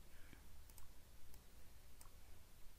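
Sparse, faint computer mouse clicks while working in PowerPoint, a few isolated ticks spread out over steady low background hum.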